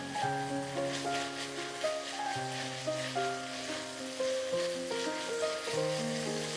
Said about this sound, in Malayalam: ഇഞ്ചിയുടെ പച്ച ചുവ മാറുന്നവരെ നമുക്കൊന്ന് ഇളക്കി കൊടുക്കാം